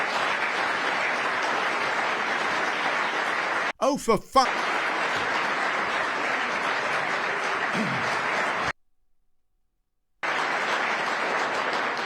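Sustained applause from the audience at a Conservative party conference, dense and steady for several seconds, then broken by a brief spoken exclamation, a short dropout to silence, and the clapping resuming.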